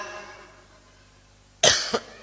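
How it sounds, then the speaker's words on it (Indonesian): Two sharp coughs close together, loud and near, following a stretch of quiet background hum, during a sermon in a mosque. "Itu namanya batuk."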